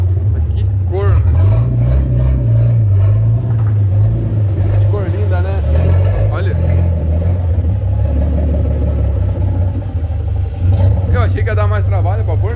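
A Chevrolet C10 truck's engine roars and revs close by as its tires spin, a loud, continuous low rumble that rises and falls, with voices shouting and talking over it.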